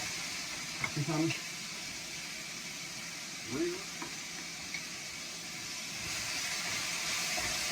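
Rice fries in a hot wok over high heat, giving a steady broadband sizzle throughout with brief stirring scrapes, while a voice talks intermittently.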